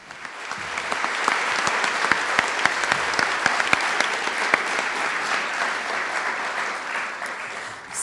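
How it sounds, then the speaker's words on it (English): A seated audience at the 2016 Sophie Kerr Prize ceremony breaks into applause after a speech, swelling quickly into a full, sustained round of many hands, with a few sharp nearby claps standing out, then easing slightly near the end. "So we've all applauded"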